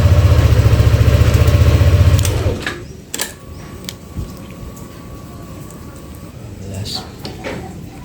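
A Yamaha Aerox scooter's electric starter cranks in a loud, steady buzzing whir for about two seconds, then cuts out, leaving quieter clicks and faint background noise while a person talks.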